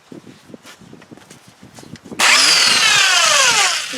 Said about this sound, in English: let's take this crank pulley down.